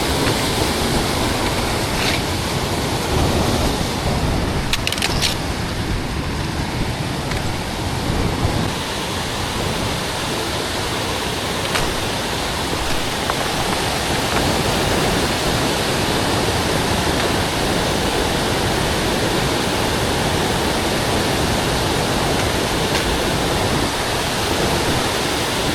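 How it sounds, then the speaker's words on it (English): A large, fast mountain creek in Kakwa Provincial Park, British Columbia, rushing with a loud, steady, close roar of water that never lets up and has no voices over it. "That's no small creek."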